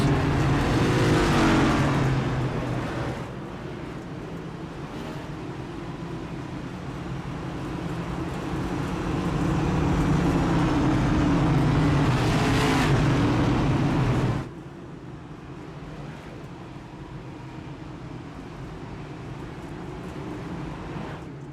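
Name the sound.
race cars restarting at Bristol in NASCAR video game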